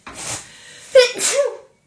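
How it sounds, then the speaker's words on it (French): A single sneeze, a breathy intake followed by a sharp voiced burst, close and fairly loud, then silence. "Là, je vais éternuer."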